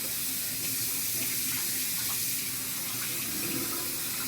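Tap water runs steadily into a kitchen sink, rinsing quinoa held in a strainer. The rush of water is loud and continuous throughout, with no voice over it.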